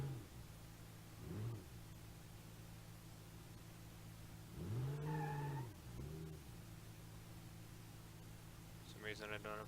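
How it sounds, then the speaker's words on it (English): Supercharged car engine in BeamNG.drive on a junk pre-runner SUV, revving in a few rising and falling pulls over a steady idle drone, ending in a short rattling burst. "Let's see if it's going to over-rev the engine at all."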